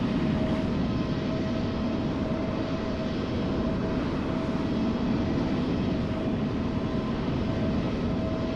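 An airliner taxiing nearby in Microsoft Flight Simulator 2020 gives a steady, loud jet-engine drone with a faint constant whine, unbroken throughout, with no talking.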